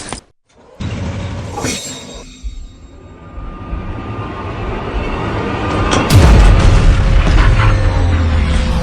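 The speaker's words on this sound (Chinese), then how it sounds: "传令下去，坦克开火，给我轰了他！" A deep tank cannon blast booms out with a crashing, rumbling explosion that swells and lingers, following a tense stretch of low rumbling noise.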